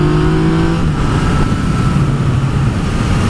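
A Yamaha XSR900 motorcycle pulls hard in gear on a ride, its engine note rising briefly and then settling into a loud, steady drone under heavy wind rush.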